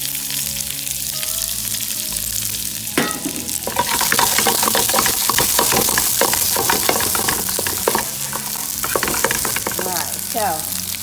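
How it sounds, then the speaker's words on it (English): Minced garlic and onions fry in a hot pan, with a loud, close sizzle that grows fuller once the onions go in. Repeated scraping stirs run through it, and no one talks. "as we're stirring this, our garlic is getting brown nicely"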